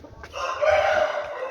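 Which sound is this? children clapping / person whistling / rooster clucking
rooster clucking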